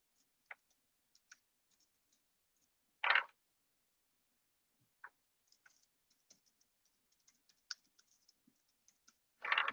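Typing on a computer keyboard, sparse quiet key taps scattered irregularly with a few louder clacks, close and faint in a quiet room, no talk.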